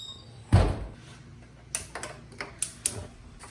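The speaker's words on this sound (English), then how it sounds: "Open your oven, and you're going to take your hot pan, set it up there." Kitchen oven door swung open with a heavy thunk as a hot pan is set inside while pork chops are being cooked, followed by a few light clicks and taps of metal, close and clear with no talking.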